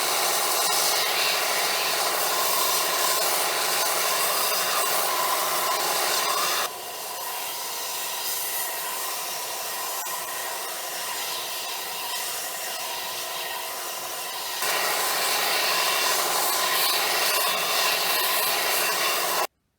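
Wooden spikes for a homemade Halloween mace have their ends sharpened, giving a loud, continuous abrasive grinding rush that drops briefly to a slightly softer, steadier tone midway, then returns to full strength.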